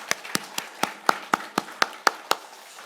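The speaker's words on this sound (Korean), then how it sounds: "우리 하나님께 영광 박수 드리겠습니다." A church congregation at a Korean Thanksgiving Sunday three-generation joint service claps in unison, about ten sharp, evenly spaced claps in a steady beat, fairly quiet and with no talk over them.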